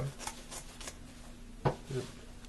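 Scissors snip and rustle through old khaki pants fabric, giving a few soft, uneven cuts and a sharper snip near the end, close by and fairly quiet.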